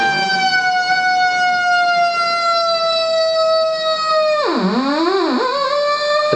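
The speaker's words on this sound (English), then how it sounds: "This is going to make noise. Shrill, loud, crazy noise." A DIY 555 timer synth in phototransistor mode gives off a shrill, loud electronic tone, holding steady and slowly falling in pitch, then swooping down and back up like a siren, with no talking.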